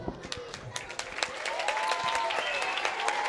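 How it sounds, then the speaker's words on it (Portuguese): Applause from a crowd at a school science fair, many hands clapping steadily and building slightly, with a few louder close claps standing out at the start. "Eu peço especialmente agora uma salva de palmas para a Beth,"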